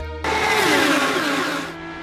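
Race cars at the Indianapolis 500 roar past in a loud, sustained burst of engine noise with a rising pitch, starting abruptly and fading after about a second and a half.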